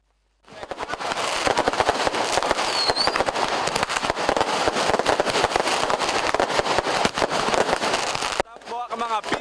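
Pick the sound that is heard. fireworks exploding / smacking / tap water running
fireworks exploding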